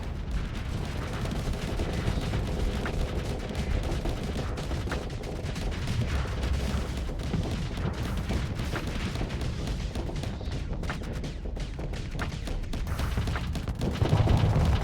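Torpedoes and weapons fire in the space combat game Starsector, with a dense, continuous barrage of booming shots and rumbling blasts lasting throughout, loud and unbroken, with a heavier burst near the end.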